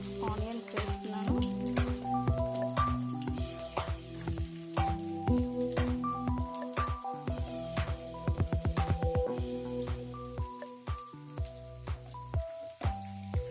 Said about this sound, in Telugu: ఇందులో చాప్ చేసి పెట్టుకున్న ఆనియన్స్ వేస్తున్నాను.